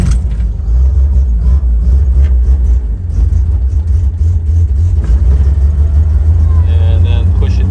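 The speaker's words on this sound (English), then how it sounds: "So I would say that's a successful cold start." A boat engine cold-starting from full choke and settling into a steady idle, its loud low rumble running continuously throughout with brief throttle variation and some talk over it.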